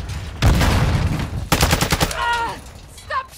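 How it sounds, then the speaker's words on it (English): Gunfire in a Call of Duty: Modern Warfare II match on the Shipment map, with bursts of rapid automatic shots and loud broadband cracks clustered in the first two seconds, then tonal game announcer and effect sounds trailing off. "Stop shooting me!"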